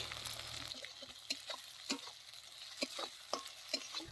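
Salt, turmeric and Kashmiri red chilli powder frying in a pan, a faint low sizzle punctuated by a regular series of soft spatula scrapes and taps, close and quiet.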